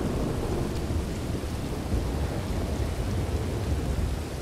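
Thunderstorm with heavy rain, a continuous broadband roar of rain with a deep low rumble of thunder underneath, steady and enveloping with no voices.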